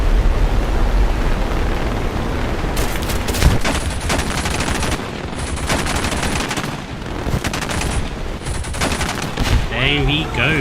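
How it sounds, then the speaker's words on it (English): AI gunners firing machine guns in the War Thunder video game, bursts of rapid gunfire in repeated volleys over a rumbling engine background, with brief gaps between bursts. "AI gunners opening fire."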